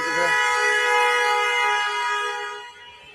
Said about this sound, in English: Who's he honking at now?